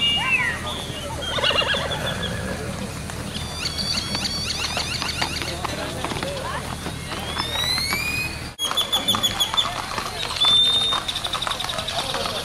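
Horses neigh and whinny repeatedly during a cavalcade procession, shrill calls rising over crowd noise and people talking, with faint hoof clatter.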